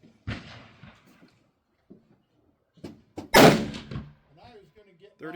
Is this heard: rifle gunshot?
yes